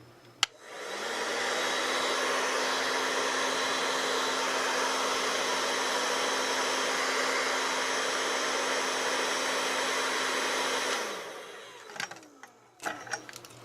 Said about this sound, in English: So I'm going to try and hold this up out of frame to a hair dryer.